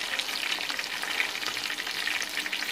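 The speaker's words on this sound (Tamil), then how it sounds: "மீடியம் ஃப்ளேமில் வச்சு திருப்பி ஃப்ரை பண்ணுங்கள்." Pieces of chilli chicken fry in a pan over a medium flame, giving a close, continuous crackling sizzle with no talking.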